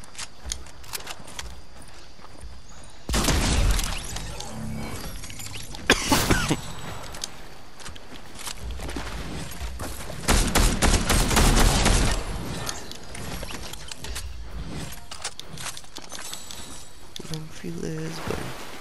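Gunfire in the Fortnite video game, with loud broadband bursts around three, six and ten to twelve seconds, including rapid repeated shots, over a steady game background.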